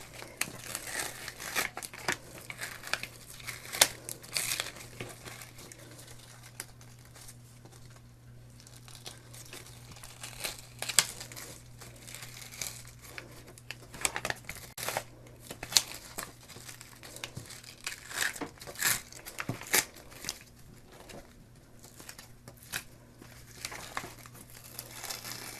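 Siser heat transfer vinyl is peeled off its carrier sheet in soft, close crinkling and tearing bursts, faint and intermittent over a low steady hum.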